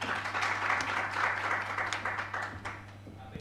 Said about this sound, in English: A clap for Agnes Mwangangi, who is the council member